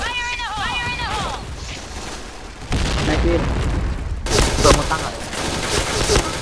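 Loud gunfire in an online shooter game, with rapid bursts and fusillades, opening with electronic game tones and sounding under faint voices.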